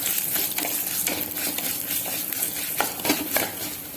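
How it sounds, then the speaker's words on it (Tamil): Spices, including a dried red chilli, fry and get stirred in a pan for South Indian rasam. A spoon scrapes and clinks against the metal in repeated strokes over a low sizzle, close and without talk. "அப்படியே லேசாக அப்படியே ஃப்ரை பண்ணிக்கலாங்க."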